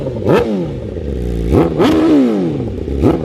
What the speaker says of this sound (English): All right, get a couple little revs.